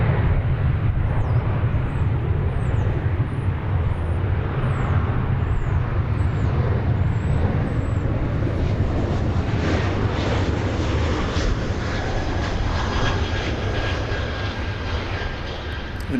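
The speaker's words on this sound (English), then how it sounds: "That aircraft was headed to Monterey. It's an Airbus A321 Neo." Airbus A321neo jet at DFW airport, a loud broad roar of jet engines sustained close by for the whole stretch, slowly easing in level toward the end, with faint chirps high above early on.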